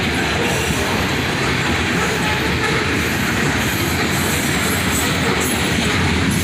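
A southbound freight train led by a pair of SD40-3 locomotives roars past close by, a loud continuous rumble with wheel clatter and faint squeal throughout.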